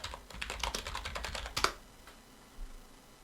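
Rapid typing on a computer keyboard, a close burst of light clicking keystrokes in quick irregular rhythm for about a second and a half, ending in a sharper key press, then near silence.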